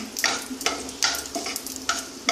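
Small cardamom and a green chili tempering in a little mustard oil crackle in a hot pan, with several distinct bursts of spitting and stirring scrapes over a low steady fry, close up.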